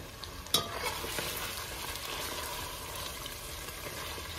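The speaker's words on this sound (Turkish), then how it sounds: "Salçamız kavruluyor." Pepper paste and tomato paste fry in a pan while being stirred for a lamb rib and chickpea stew. A soft, steady sizzle carries faint scraping strokes, with one sharp clink near the start.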